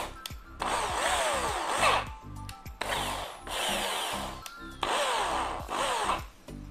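A Japanese-market 100-volt electric concrete drill runs in reverse in three separate bursts, each motor whine spinning up, holding for about a second and winding down, with short quiet gaps between; no one speaks.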